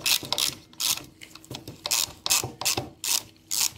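A ratchet with a 10 mm socket tightens a thermostat bolt on a BMW, giving repeated bursts of close, crisp pawl clicking with short pauses between strokes.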